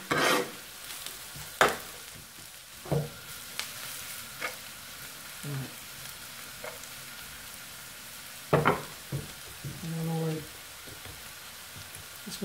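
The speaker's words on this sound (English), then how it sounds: "occasionally do a little stirring session. Make sure you're not burning." Bottle gourd curry frying in a pan with a soft sizzle underneath and several distinct scraping stirs of a spoon against the pan, spaced irregularly.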